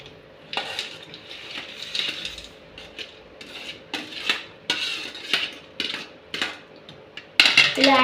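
Boondi is stirred into sugar syrup for bundi laddu, with a spoon repeatedly clinking and scraping against a metal pot in uneven strokes, close and fairly crisp.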